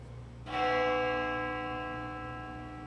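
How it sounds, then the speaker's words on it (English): In the video game Spirit Hunter: Death Mark II, a single bell strikes once, sharp and bright, then its resonant ringing tone decays slowly over a few seconds above a quiet low hum. "The sound of a bell echoes in my ears."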